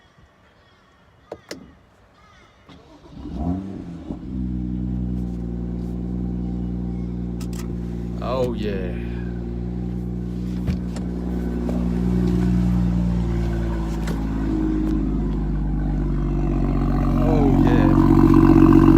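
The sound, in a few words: BMW M2 engine starting and revving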